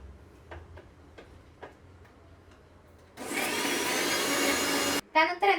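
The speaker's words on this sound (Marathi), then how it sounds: "आता ह्याला परत एकदा मिक्सरला लावते मी" A kitchen mixer grinder blends aloe vera: after a few light ticks and taps, the motor bursts into a loud, harsh whirring roar for about two seconds, then cuts off, leaving a few short clattering sounds.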